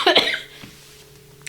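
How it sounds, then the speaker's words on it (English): A single sharp, loud cough up close, a lingering one from someone recovering from illness, followed by near silence and a faint tap at the very end. "then I developed this cough once I started getting my energy back"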